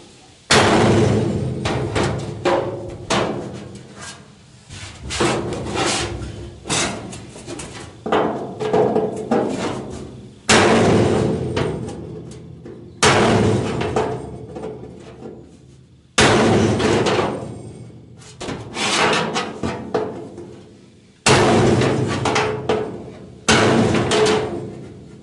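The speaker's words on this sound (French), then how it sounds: "je vais utiliser un espèce de vieux burin pas affûté du tout" Repeated hammer blows drive an old, blunt chisel against the steel body panel of a Citroën Traction 11B, landing in irregular bursts of sharp metallic thuds and bangs separated by brief pauses, close and loud.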